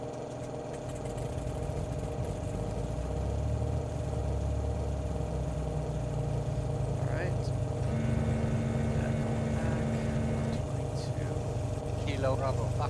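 A propeller aircraft engine in the Prepar3D flight simulator steadily cranks and settles into a continuous low rumbling drone, with people talking over it.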